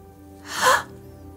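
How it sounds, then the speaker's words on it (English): A single short, sharp intake of breath, a startled gasp, rises and fades within half a second over quiet background music. "You gasp as you peer inside the tomb."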